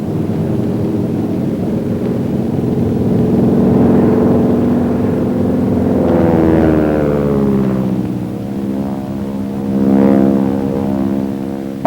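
A North American Aviation T6 propeller plane drones loudly in flight through a slow roll, its engine's buzzing hum rising and falling in pitch as the manoeuvre progresses, with no voices.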